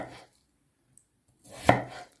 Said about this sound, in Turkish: Bakın bu şekilde doğrayacağım.